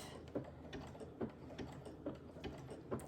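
A Brother Innovis F410 sewing machine stitches a decorative pattern on its own, giving a steady mechanical whir with regular clicking beats as the fabric feeds back and forth, close up and with no voices.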